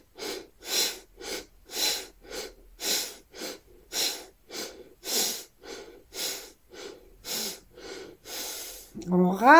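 Rhythmic close breaths during a guided belly-breathing exercise, a series of regular airy inhales and exhales, ending with a voiced sound.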